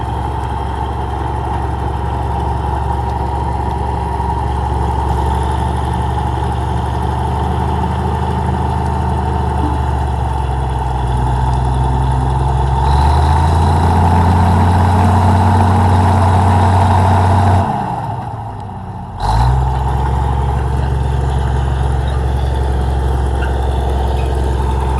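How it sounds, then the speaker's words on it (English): A powerful Komatsu machine's diesel engine drones steadily and loudly for a long stretch while pushing one dirt pile into another, its pitch rising under load, then dipping briefly before resuming. "Komatsu is a pretty powerful machine"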